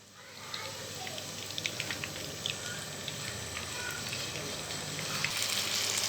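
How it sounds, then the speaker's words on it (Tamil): Chicken 65 pieces deep fry in hot oil, giving a steady close crackle and sizzle with scattered pops that build slightly toward the end. "இது நல்லா பொரிஞ்சிருச்சு, நல்லா மணம் வருது."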